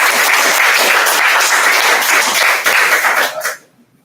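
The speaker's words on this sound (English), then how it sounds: "Can we get one more round of applause for all of you?" An audience claps and applauds in a loud, steady burst of dense clapping following the close of student cabinet election debates, then fades out quickly near the end.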